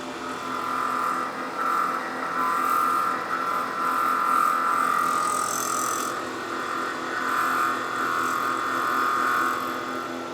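A very small drill bit cuts steadily into a workpiece, making a constant high whine that holds at a moderate, even level with no talk.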